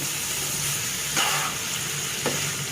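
Eggplant cooking slowly in a pan over low heat, giving a soft, steady sizzle with two brief stirring scrapes; no voices.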